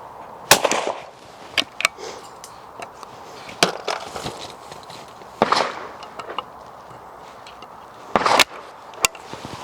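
An old folding .410 shotgun fires five or six sharp, loud reports at irregular intervals outdoors, each crack followed by a brief decay, with quieter background between shots.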